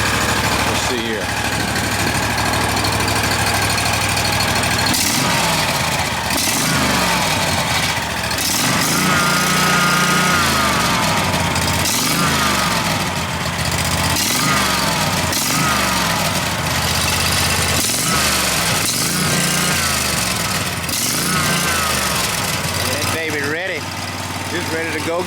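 A lawn mower with a new engine running steadily after a pull start, loud and close with a throbbing, revving drone throughout, while someone talks over it.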